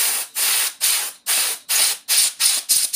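Aerosol spray can blasting dust from a mixing console during disassembly and cleaning, delivered as about eight sharp, loud hissing bursts in a steady rhythm, each separated by a brief silence.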